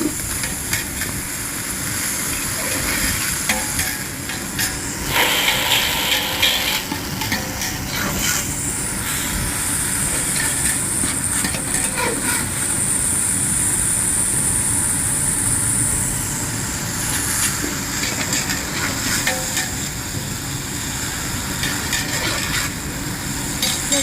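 Vegetables with coriander and mint fry for veg biryani in a pan, giving a steady broadband sizzling hiss that carries on loudly throughout with small rises and dips.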